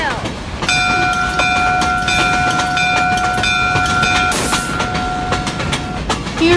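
A steam locomotive pulling into a station: a steady loud rumble with a sustained tonal bell or whistle-like ringing and clanking, close and continuous.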